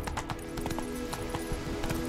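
Roach the horse galloping in The Witcher 3, a quick steady clip-clop of hooves running close by at a moderate level, with no voices.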